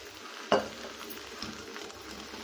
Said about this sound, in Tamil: நல்லா கிளறிக்கலாம்.